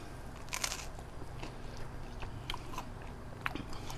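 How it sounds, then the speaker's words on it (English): Someone bites into a crunchy homemade pizza crust, giving a few sharp close crunches followed by quieter chewing crackles, with no talking. "I don't know if you just heard the crunch on that when I bit into that crust"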